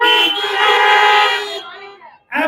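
Car horns honking at a drive-in church service: a long, loud sustained blare of several horns together that fades out, then a fresh horn blast starting right at the end.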